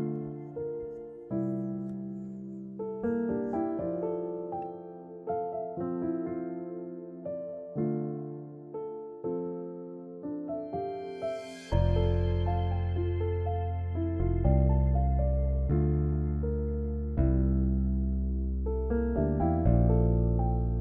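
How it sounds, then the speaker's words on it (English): A synth pad sample in a hip-hop beat plays a looping sequence of soft, sustained melodic chords. A heavy low bass joins halfway through, filling out the mix with no voices. "next thing is the pad right here."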